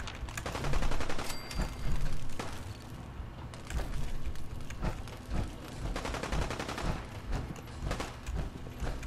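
Fallout 4 gunfire clatters almost nonstop in rapid, overlapping bursts, loud and close, with short lulls between volleys of automatic shots.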